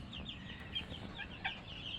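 Native hens at a small farm cluck softly now and then over a low, constant background murmur.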